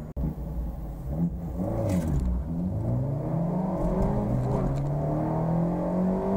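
An Abarth 124 Spider and a Mazda MX-5 2.0 accelerate hard, with engine notes rising through the revs, a gear change and climbing again. The engines drone close and loud over a steady rumble, with no talking.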